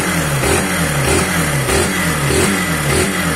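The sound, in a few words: Honda Titan 150 carbureted motorcycle engine revving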